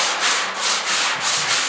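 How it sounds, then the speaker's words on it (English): Rhythmic hand block sanding with 80 grit sandpaper on a truck body panel of a 1972 Ford F100, about five steady back-and-forth scraping strokes, close and fairly loud with no talk. "I'm just blocking this now with 80 grit"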